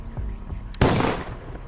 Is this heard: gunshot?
yes